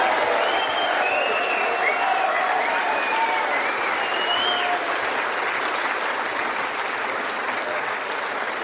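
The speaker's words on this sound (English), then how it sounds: "may we have a round of applause for an absolutely brilliant final by" A large arena crowd applauds at the close of the Champion of Champions 2022 snooker final, with steady dense clapping and faint cheers holding at a constant level throughout.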